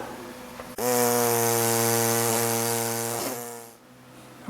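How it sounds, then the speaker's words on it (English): A small power saw cuts through a spinning carriage bolt in the floor of a GMC Motorhome Eleganza, a loud, close, sustained whine of about three seconds that winds down at the end. "Let's try my little saw."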